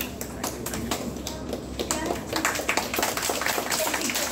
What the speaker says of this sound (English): All of you, give him a big round of applause.